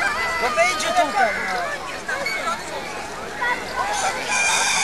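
Roosters crowing at a rooster race in Oława, Poland, with several curving crow calls rising amid a lively crowd and loud background chatter.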